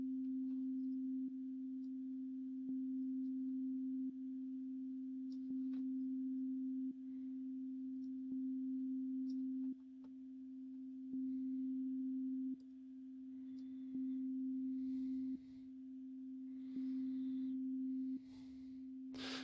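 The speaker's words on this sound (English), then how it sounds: "with a higher release time, we can get these kind of pumping sounds where the sound slowly comes in" A steady sustained tone passed through a downward compressor with a long release time, its level dipping sharply and then swelling slowly back up in repeated pumping cycles, with faint higher clicks and noise bursts toward the end.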